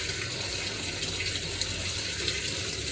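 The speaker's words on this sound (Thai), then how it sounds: "อันนี้ผมเปิดน้ำต่ำสุดเลยนะ" Water runs steadily into a Samsung WA85G5 washing machine with the tap opened to its lowest setting, a constant close hiss of flow with no voices over it.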